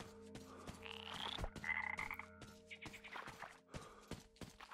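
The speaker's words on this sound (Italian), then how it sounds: "Mamma mia queste rane. Se sono rumorose." Frogs croak loudly in rapid, overlapping rhythmic bursts in a swampy area of the Metro Exodus video game, repeated clicking croaks layered close together.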